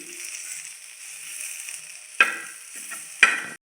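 Onion sautéed in a little oil gives a soft, steady sizzle, with two sharp spatula scrapes against the pan and a fainter stir between them before the sound cuts off abruptly.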